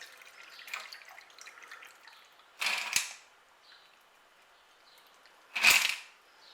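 A cocktail trickles over ice into an Anko highball glass, with faint drips and two short, bright splashy bursts of liquid and ice close by in a quiet room.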